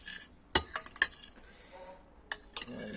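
Rice salad mixed in a bowl produces a handful of sharp utensil clinks against the dish, irregularly spaced with quiet gaps of soft stirring between them, close and fairly faint.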